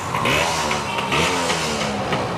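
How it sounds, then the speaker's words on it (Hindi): A 2007 Yamaha 100cc two-stroke motorcycle engine runs up close and loud, a raspy buzzing idle with small revving swells and no talk. "साउंड सुनो ज़रा, टिपिकल 2 स्ट्रोक साउंड, अच्छे साउंड में बोल रही यामाहा 100cc"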